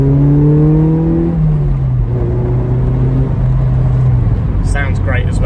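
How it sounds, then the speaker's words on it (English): Exhaust note of a Mazda MX-5 MK4 (ND) driving along twisty country lanes: a steady, close engine drone that drops in pitch at a gear change, with a voice talking over it. "The MX-5s do have a brilliant exhaust note."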